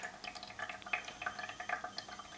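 Water dripping through a Brita water filter, a quick irregular run of small close drips and trickles, soft and alone.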